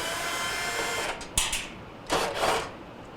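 Screws being removed with a power driver from the heater box of a Kenmore dryer, two short whirring bursts close by after a steady hum, with no talk.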